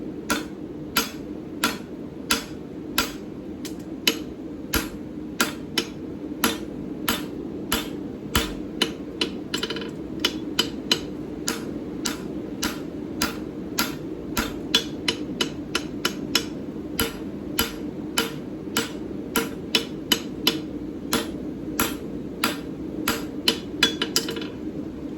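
Hammer blows on a steel horseshoe being finished with double heel caulks at the anvil, a steady run of sharp metallic strikes repeating about every half second, close and loud, with no talking.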